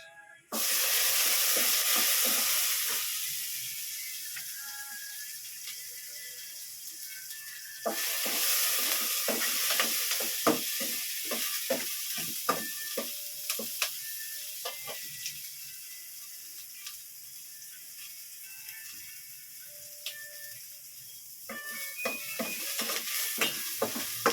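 Garlic and onion sauté in a pan for a Filipino home meal, a steady hiss of sizzling oil broken by repeated scrapes and clinks of stirring, close and clear with no talking.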